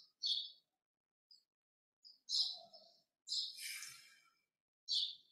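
Loud bird calls sound outdoors in four or five bright, chirping bursts, separated by short silences, with one longer, busier phrase near the middle.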